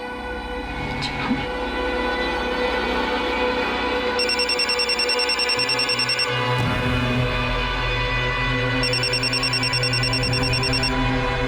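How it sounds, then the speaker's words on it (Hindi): A mobile phone rings in repeated electronic bursts during a home puja gathering, with a steady background bed and people talking nearby. "भाई साहब भाभी साहब का फोन बज रहा है।"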